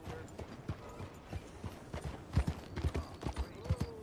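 Horse hooves clip-clopping in Red Dead Redemption 2 Online, a steady run of close, distinct hoof strikes that grow louder and denser toward the end, with faint background ambience.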